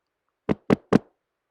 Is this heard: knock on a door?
yes